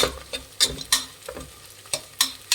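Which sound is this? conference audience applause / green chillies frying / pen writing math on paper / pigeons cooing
green chillies frying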